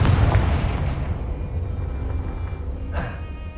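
The Confringo fire spell in Hogwarts Legacy bursts with a loud, close explosion that settles into a low, fading rumble. A brief sharper crack follows near the end.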